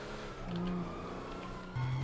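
A car engine in the GTA 5 video game revs steadily at close range during a police chase, its droning tone climbing in pitch with a louder surge near the end; no voices over it.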